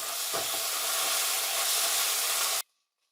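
Ingredients stirred in a hot pan with soya sauce and chili garlic sauce, for a baked chicken and vegetable pasta, give a loud, steady hiss and sizzle that cuts off abruptly near the end.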